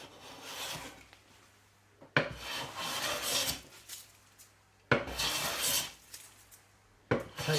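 A hand plane iron shaves a piece of oak in three long, rasping strokes, each starting with a sharp bite and running about two seconds, close and clear with quiet pauses between.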